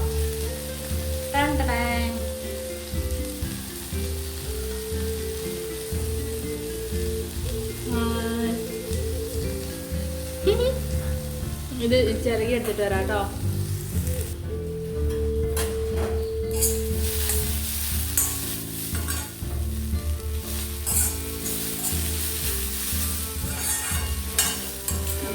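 Soya chunks frying in a pan, steady close sizzle with occasional stirring scrapes, a short spoken remark over it.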